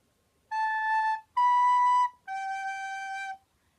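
Three sustained wind-instrument notes played one after another, A, then B, then G, each held about a second with brief gaps between, clear and solo with no talking.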